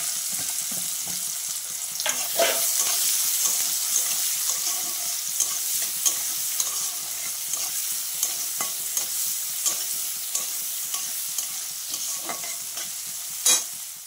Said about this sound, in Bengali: পেঁয়াজ কুচানোগুলো দিয়ে দেবো